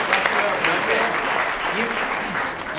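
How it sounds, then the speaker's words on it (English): A standing audience at a mayor's state of the city address breaks into loud, sustained applause, a dense wash of many hands clapping, with voices mixed underneath. "Now, yes, big round of applause."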